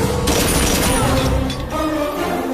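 Booming gunfire and crashing impacts from sniper shots in an Indian action film, loud and close, with several hits in quick succession. A voice speaks over part of it.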